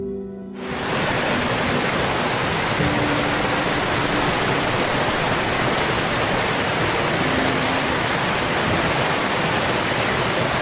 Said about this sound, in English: Waterfalls cascade from heights of dozens of meters, spraying white foam into tranquil pools